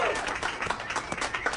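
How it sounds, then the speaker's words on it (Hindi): Brief burst of audience applause for a comedian in a comedy club, dense scattered clapping with voices mixed in. "एलिसा हेरल्डसन के लिए जोरदार तालियां"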